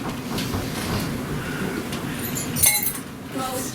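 Glasses clink during a wedding toast as guests stand, a scatter of light bright chinks rising to a cluster near the end over a low murmur of the room.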